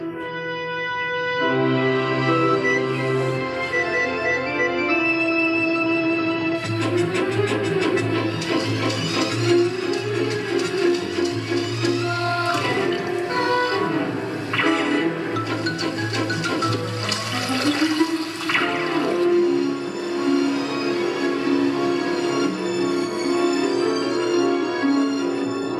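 A steady rush of water flowing downhill toward the ocean churns continuously for nearly half a minute, loud and close, with musical tones running underneath throughout.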